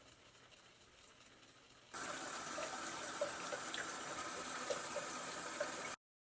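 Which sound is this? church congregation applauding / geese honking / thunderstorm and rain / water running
water running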